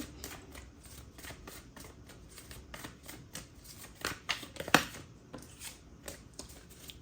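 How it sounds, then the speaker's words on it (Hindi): A deck of tarot cards is shuffled by hand, giving a soft, continuous riffling patter with quick, rhythmic card flutters and a few sharper snaps, close and fairly quiet. "we need one card at one time, we have to shuffle more"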